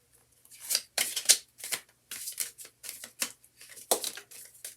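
Tarot cards are shuffled by hand in a series of crisp, uneven riffling and slapping bursts with short pauses between them, close and fairly loud, with no talk.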